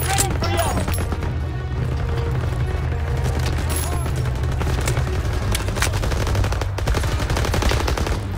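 Dense, continuous bursts of rapid gunfire in Call of Duty WW2 roll on throughout, loud and overlapping, with a voice talking underneath the constant shooting.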